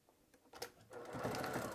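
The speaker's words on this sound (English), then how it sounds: "you could stitch here first, lining up the top stitching" A sewing machine top stitches fabric, starting with a few faint taps and then running into a steady, whirring mechanical hum that grows louder and continues to the end, with no speech.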